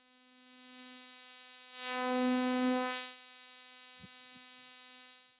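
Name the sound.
modular synth tone through high pass filter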